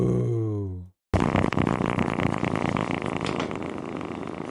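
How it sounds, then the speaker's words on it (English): A nest of kittens purring up close, a loud, rough, continuous rumble like a small engine that starts abruptly after a short pause and holds steady to the end, preceded by a brief voiced sound. "A nest of purring kittens, 2 minutes."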